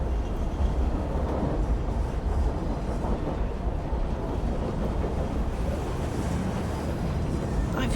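Train interior ambience in Assassin's Creed Syndicate: a continuous, fairly loud rolling rumble of the moving carriage, steady and dense from start to end with no clear speech on top.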